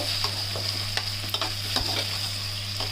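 Onions and tomatoes fry in an oily pan for chicken thokku, giving a steady close sizzle broken by scattered scraping stirs, with a constant low hum running underneath.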